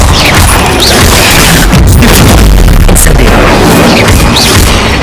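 Incendio fire spell cast in Hogwarts Legacy amid a chaotic fight, with loud, saturated booming crashes and bursting whooshes layered densely throughout, very close and overpowering.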